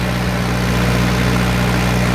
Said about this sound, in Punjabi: ਥੋੜ੍ਹੇ ਚੱਕਰ ਤੋੜ ਕੇ ਚੱਲ ਰਿਹਾ ਵਧੀਆ ਚੱਲਦਾ ਪੂਰਾ ਟਰੈਕਟਰ